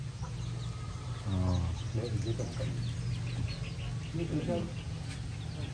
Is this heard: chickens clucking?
yes